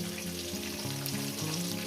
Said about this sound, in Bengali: আলুগুলো দিয়ে সুন্দর করে লাল লাল করে ভেজে নেব মিনিমাম দু মিনিট ভেজে নেব